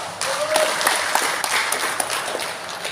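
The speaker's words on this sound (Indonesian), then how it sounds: "Tepuk tangan ini artinya setuju" Audience at a speech by Indonesia's Minister of Religious Affairs breaks into loud, dense applause, steady and unbroken for the whole stretch with many hands clapping together.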